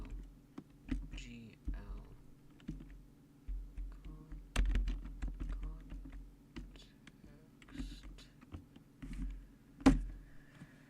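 Rapid keyboard typing on a computer while writing engine code, scattered key clicks in uneven bursts close to the mic, with soft muttering and low hum underneath.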